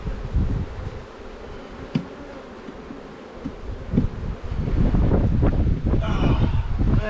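Honey bees buzzing around an open hive during a hive inspection, a close, continuous drone with wind buffeting the microphone and handling bumps, growing louder toward the end.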